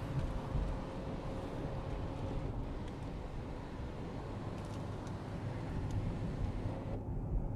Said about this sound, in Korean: 그래도 썬루프 정도는 열어도 되죠.